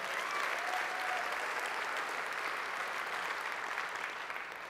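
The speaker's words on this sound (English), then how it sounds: "Let's give ourselves a quick round of applause for being here today." Steady audience applause fills a conference keynote hall, a dense, even wash of many hands clapping that holds at a constant level and eases off slightly near the end.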